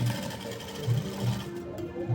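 A sewing machine runs a short straight seam on a coat-collar kurti, a close, continuous whirring with a regular low pulse from the needle's rhythm.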